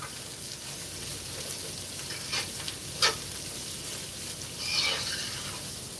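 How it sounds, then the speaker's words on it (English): Cabbage sautéing in a pot, a steady close sizzle of frying with occasional scraping stirs and small bursts of hissing, no talk over it. "So I'm adding the cabbage now. Alright, so let's saute this bad boy."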